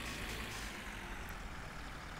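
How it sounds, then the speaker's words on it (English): Car engine in the driving game My Summer Car, a steady close rumble held at an even level with no clear surges in revs, heard alone. "You have to give the engine a few revs to get going."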